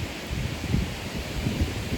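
Soft, steady rushing of wind through leaves at a conservation area in Missouri on a windy day, low and gusty, with a faint rustle and no voices.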